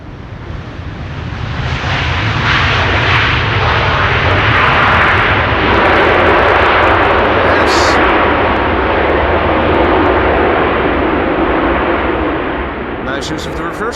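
An airliner lands at Amsterdam Schiphol on a windy day and deploys its thrust reversers, a loud, rumbling engine roar that swells over several seconds, holds, then slowly fades.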